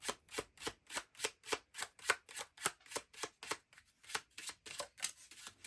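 A deck of tarot cards shuffled by hand, a rapid even run of about twenty riffling bursts, close and crisp, with no talking.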